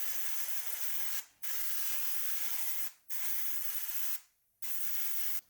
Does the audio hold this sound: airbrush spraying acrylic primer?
yes